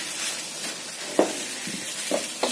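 Tofu, carrot and spring onion sizzle and hiss in a hot pan while being sautéed, with a steady frying crackle broken by a few sharp clicks of a utensil against the pan.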